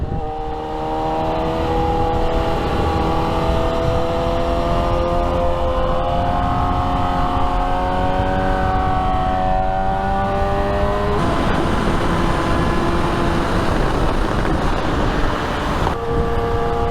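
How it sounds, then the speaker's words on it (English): Steady engine drone from a vehicle on a weekend ride, pitch shifting in stepped changes as revs rise and drop, with a sudden jump around the middle and another near the end, loud and close with no talk. "while downshifting, you have to give a bit of throttle. Only then you can rev match your engine to get smoother downshifts."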